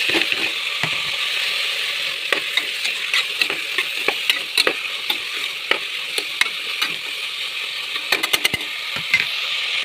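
Chopped tomato fries in a pan for pulao with a steady, close sizzle, while a spoon scrapes and taps intermittently as it is stirred.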